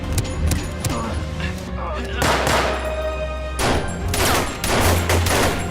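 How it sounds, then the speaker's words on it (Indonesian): Gunfire crackles in a film shootout between special forces and terrorists, with bursts of shots and blasts layered over a continuous loud action mix as the fighting resumes. "terjadilah baku tembak kembali"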